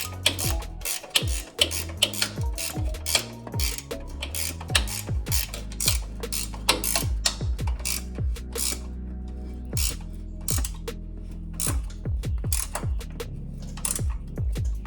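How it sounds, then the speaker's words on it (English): Top mounting nuts of a new front strut on a 1996-2002 third-generation Toyota 4Runner 4WD being tightened with a ratchet, rapid metallic clicking in repeated bursts close by, with no talking. "I'm going to go ahead and put the 3 nuts on up top and go ahead and tighten those."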